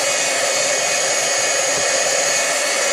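Hair dryer blowing steadily at close range, drying sponged ink on a paper mask stencil; a continuous loud whir with no pauses or talk.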